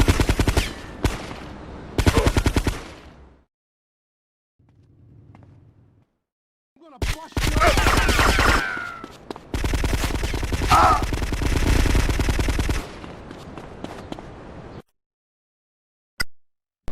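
Machine gun fire in the game GTA Vice City Stories: loud close bursts of rapid shots, with pauses and a brief quiet patch, then a longer sustained burst and a final sharp shot.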